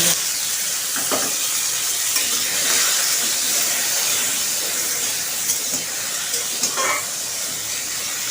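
Hog plum pieces stirred with nigella seeds in a frying pan, giving a continuous, fairly loud sizzle and hiss with occasional soft scraping sounds.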